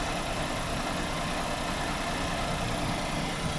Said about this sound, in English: So that's how my engine idle with AC on.